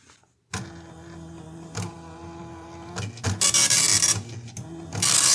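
A Commodore MPS-802 (1526) dot matrix printer runs its power-on self-test, close and loud, with bursts of buzzing print-head rasp and mechanical chatter after a brief silence. The rattling grows denser and harsher toward the end, with no voices.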